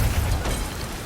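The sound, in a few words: explosion of explosives in garbage truck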